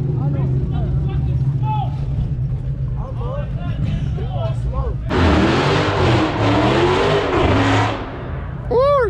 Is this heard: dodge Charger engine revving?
yes